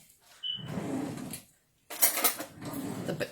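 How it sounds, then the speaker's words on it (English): A spoon knocks and scrapes against a cooking pot while onions are stirred, two short bursts of clattering with a brief quiet gap between them, close and with no one talking. "You can give it a quick stir."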